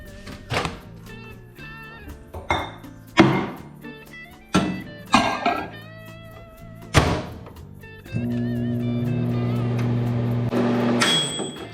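A microwave oven heats chocolate, opening with a series of hard thunks and clicks as the door and controls are worked, then settling into a steady, loud electric hum as the heating runs.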